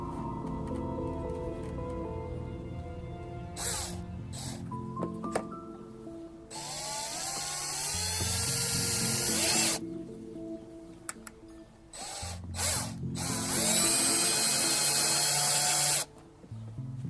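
A Porter-Cable power drill whirs in several bursts, revving up and stopping as screws are driven into molding, with ratcheting clicks and brief pauses between runs.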